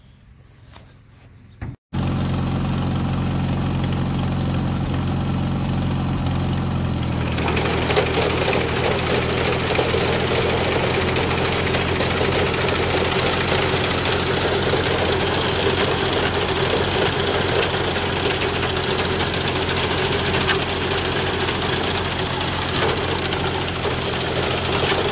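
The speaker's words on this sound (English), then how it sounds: "I will fire up the tractor here" A New Idea 30A sicklebar mower's tractor diesel engine starts after a brief clatter and settles into a steady, loud idle with a rhythmic knocking throb that continues alone.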